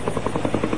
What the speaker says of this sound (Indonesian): Dan Anda bisa saksikan bersama-sama proses penurunan mereka dari helikopter.